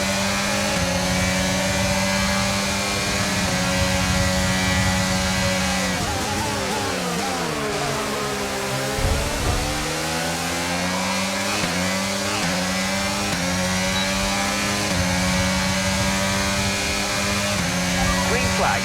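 Simulated F1 race cars in the F1 22 video game scream past in a sustained, loud, layered engine whine with shifting pitch sweeps as several cars accelerate and pass, heard alongside game audio.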